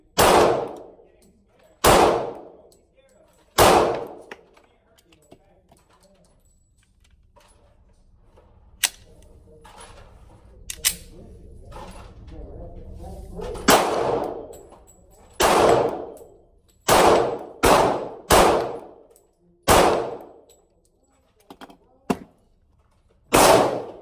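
A Smith & Wesson M&P Shield 45 ACP pistol fires about a dozen sharp, loud single shots at irregular intervals, some paired closely, each decaying quickly, with quieter handling noise and brief talk between them.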